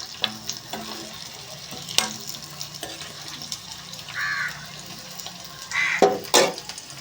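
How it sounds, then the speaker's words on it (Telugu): Peanuts, cumin and garlic paste frying in hot oil, a soft sizzle broken by scattered scraping stirs, with a brief burst of water from a tap near the end. "ఆయిల్లో పెట్టుకుని అయితే ఫ్రై చేసుకుందాం"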